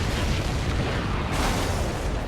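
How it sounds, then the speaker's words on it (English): A supply ship blowing up after a missile hit in the combat flight game Ace Combat 7: Skies Unknown, a loud, sustained roaring blast with dense rumbling debris that swells again partway through, with no talk over it. "Did you see that explosion?"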